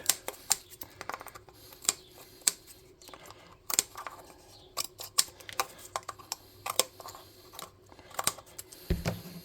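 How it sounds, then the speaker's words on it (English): Scissors snip around the edge of craft material for a tabletop-game clothing booth model, producing a steady run of small, crisp cutting clicks close up, irregular in rhythm and fairly quiet. "I'm going to come around the outside and just snip that off around that bend"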